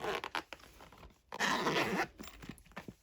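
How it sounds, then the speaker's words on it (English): A zipper drags in short, effortful bursts around a jam-packed makeup travel bag, close to the microphone, with one longer pull in the middle and rustling in between. "Let's see if it still zips up."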